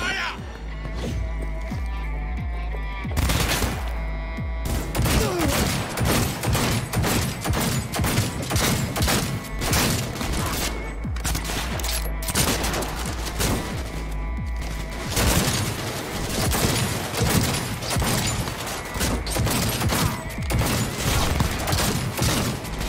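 A shootout in the game Cyberpunk 2077, with dense, continuous gunfire from multiple weapons: rapid volleys and heavy thumps run almost without pause, and a voice speaks occasionally underneath.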